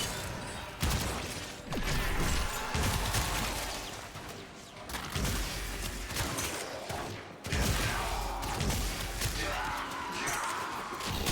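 Mesa Prime's Peacemaker in Warframe lets loose a dense, loud stream of rapid gunfire in long bursts, with mechanical clatter and crashing impacts between volleys.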